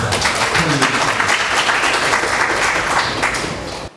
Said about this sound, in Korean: 윤봉효 소장님을 박수로.